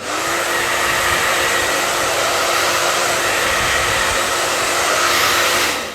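A hair dryer blows warm air to dry hair with a loud, steady whooshing roar that runs unbroken from start to finish, then cuts off sharply at the end.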